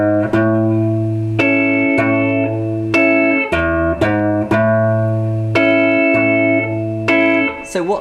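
Guitar playing the opening chord progression of a song, each chord strummed or plucked clearly with a ringing sustain, a steady series of changes close and loud with no talking.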